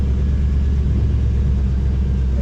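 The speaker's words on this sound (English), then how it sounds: "it sounds great. The exhaust system's brand new in the car." A 1965 Chevy Nova with an automatic transmission and a brand new exhaust system runs steadily, giving a deep, continuous low rumble that stays loud and close with no voices over it.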